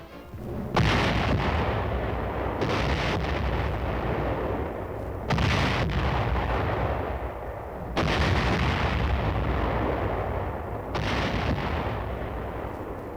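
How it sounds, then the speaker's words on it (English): 24th Division Artillery guns fire on Hill 584 against an entrenched enemy, with four heavy booming salvos a few seconds apart, each followed by long rolling rumble that fills the gaps. "24th Division Artillery prepares to open fire on Hill 584"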